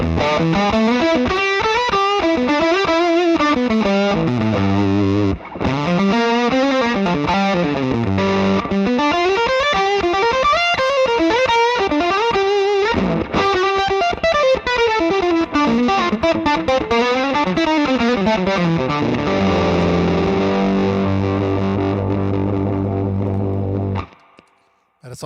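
An electric guitar through a Myriad fuzz pedal plays sliding, wavering phrases with a thick, buzzy distortion, loud and close, ending on a sustained chord that cuts off.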